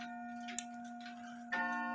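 A Nisshindo 100-day torsion anniversary clock ticks softly through a beat amplifier, with a few distinct ticks over a steady tonal hum from the amplifier.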